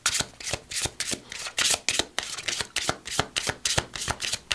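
Metatron Oracle cards are shuffled in quick, rhythmic riffles, each burst a crisp papery flutter repeating about twice a second, close and clear with no talking.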